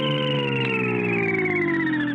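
A smooth electronic whirring tone with layered pitches that slowly glide downward, like a hovering Jetsons-style cartoon car, steady and alone.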